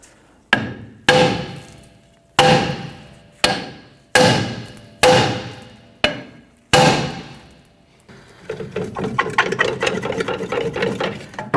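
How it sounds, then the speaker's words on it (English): Seven loud metallic hammer strikes on the edge of a rear brake drum on a Chevrolet S10 pickup ring out one by one with decaying clang, followed by a rapid rattling, buzzing mechanical sound. "we're going to go ahead and use a hammer and we're going to strike around the edge of the drum"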